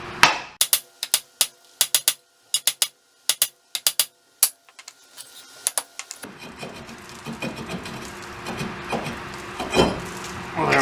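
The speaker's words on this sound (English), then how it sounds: "I'm going to go ahead and give it a few whacks with a sledgehammer" A sledgehammer strikes the front brake rotor on a 2002 Honda Civic Si EP3 over and over, giving sharp, loud metallic bangs in irregular bursts. Steadier clanking and rattling noise follows as the rotor comes loose.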